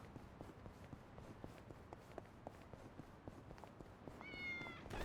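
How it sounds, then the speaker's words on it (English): A kitten in the video game Yakuza: Like a Dragon gives a short, rising meow near the end, after faint tapping footsteps over quiet game ambience. "I might also hear this kitten."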